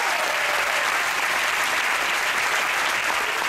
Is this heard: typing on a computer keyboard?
no